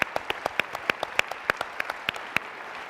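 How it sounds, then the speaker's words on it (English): Sparse applause for Bill Kurtis at a discussion event: crisp, separate claps fall at a brisk, fairly even pace, sounding like only a few hands clapping rather than a full crowd. "a round of applause for Bill Kurtis alone"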